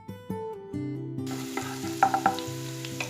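Chopped ginger, green chilies and onion sauté in hot coconut oil for a kovakka curry. A soft sizzle runs under a sustained musical tone, with a few light stirring clinks near the middle.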